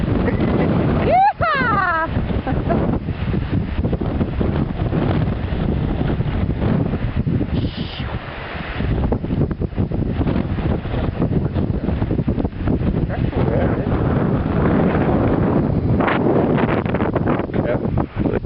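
Strong wind roars over a highway, buffeting the microphone with a loud, continuous rush; people talk over it and a brief whistling squeal cuts through near the start.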